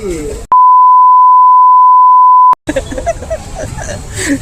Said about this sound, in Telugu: అన్నిసార్లు బీప్ పెట్టుకోలేను రా